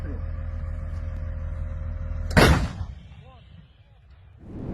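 A 155 mm Bogdana self-propelled howitzer fires one loud, close shot that booms sharply over a steady engine rumble, then rolls away and fades as the engine drones on.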